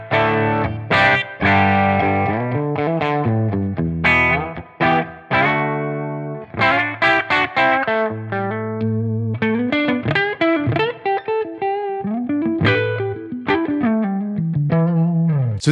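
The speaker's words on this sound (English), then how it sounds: "We can get that channel to the edge of breakup." An electric guitar through an amp set at the edge of breakup, with slight grit, plays a lively run of notes and chords, punchy and sustained, with no voices.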